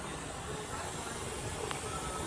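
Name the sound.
steam hissing from pressure canner while canning potatoes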